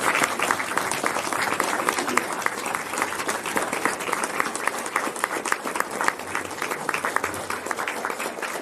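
Steady, dense applause from an audience congratulating a group of standing women, many hands clapping continuously and evenly at close range for the full stretch without fading.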